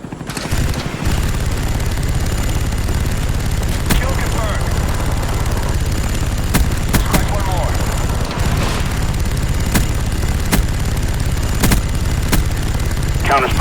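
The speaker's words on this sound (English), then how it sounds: "enjoy the last couple seconds of me tearing it up in the chopper bin" Helicopter gunner fire in a video game, sharp bursts of gunfire and booms cracking out repeatedly over a steady rotor-like drone, loud and busy throughout.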